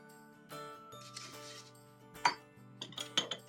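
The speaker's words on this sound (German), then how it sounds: "In meine gut sterilisierten Gläschen fülle ich jetzt den Knoblauch." Garlic cloves dropped into sterilized glass jars in a home kitchen: soft, sparse clinks and light taps of glass, with a couple of brighter knocks, over a faint steady hum.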